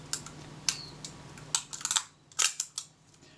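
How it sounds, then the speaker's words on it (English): Kodak Retina Reflex III camera being serviced, its shutter cocked as the capping plate drops and the mirror swings, giving a series of close, sharp mechanical clicks and snaps in quiet surroundings. "it's not until you cock the shutter, capping plate's down, mirror swings back out of the way"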